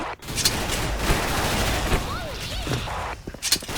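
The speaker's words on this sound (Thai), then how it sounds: "ปาระเบิดไปครับผม สองลูกเลย" Dense gunfire crackles with booming grenade blasts throughout, loud and continuous, an intense video game battle with explosions mixed into rapid machine-gun shots.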